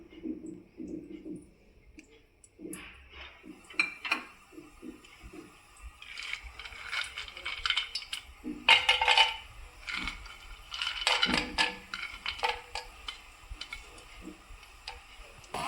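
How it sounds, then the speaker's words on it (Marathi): Cashews fry in oil in a hot frying pan, giving sparse light ticks, clinks and scrapes from stirring with a faint crackle, close and fairly quiet, with no one talking. "आपण तेल ॲड करूया आणि काजू आपले चांगले गोल्डन ब्राउन होईपर्यंत"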